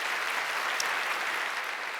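Church congregation applauding to bless newly baptized members at a Christmas Sunday service, a steady dense wash of clapping hands filling the hall throughout, with no talk over it.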